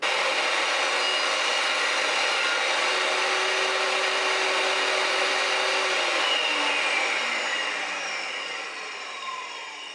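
A DeWalt DW745 table saw runs loud and steady as it cuts through wood, then its whine gradually winds down toward the end.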